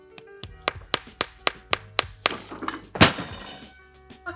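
A wooden spoon whacks an old pomegranate in a quick, steady series of about a dozen close, dull knocks, ending in a heavier, cracking thump followed by a faint rustle.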